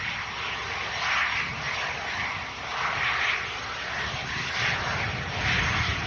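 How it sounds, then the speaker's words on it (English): A Bombardier Challenger 350 business jet at Manchester Airport roars steadily, a broad, fairly distant engine rush that swells and fades slightly, with no voices. "Beautiful Bombardier Challenger 350. Have a listen in."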